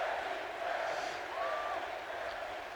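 Video game crowd in WWE 2K20 roars steadily throughout, cheering in support of wrestler Becky Lynch during a Raw Women's Championship match, with a commentator's voice running over the continuous noise.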